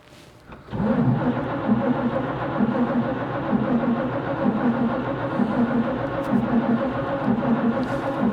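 A 1941 Chevrolet engine on a Carter W-1 carburetor catches after a short crank and settles into a loud, steady, lumpy idle that runs on alone.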